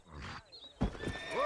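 Horse in the Red Dead Redemption game giving a short, loud whinny after a brief muffled snort, near and clear, with a faint clip-clop of hooves.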